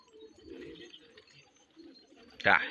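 Pigeons on a rooftop give soft, low cooing near and far, ending in a louder burst that sounds like wing flaps or a bird taking off.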